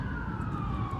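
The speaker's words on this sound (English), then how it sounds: "The police are coming." A police car siren wails steadily outdoors, a sustained tone sliding slowly downward as it passes, over low road rumble.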